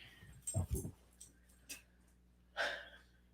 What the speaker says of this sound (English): Chris is having a hell of a time with the dogs.